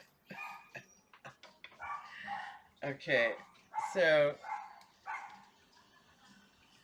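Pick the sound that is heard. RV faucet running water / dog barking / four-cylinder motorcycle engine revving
dog barking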